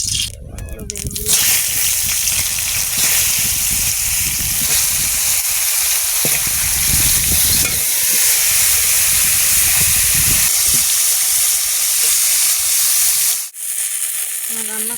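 Eggplant slices frying in hot oil give a loud, continuous sizzle and hiss that stays up close for most of the clip, with a brief clatter at the start and a sudden drop near the end.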